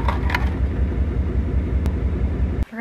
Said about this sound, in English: My truck is so loud.